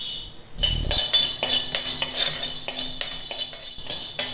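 Black pepper dry roasts in a pan for sambar, a dry rattling and clinking of peppercorns moved about, with rhythmic scrapes repeating every half second or so, close and fairly loud with no voices.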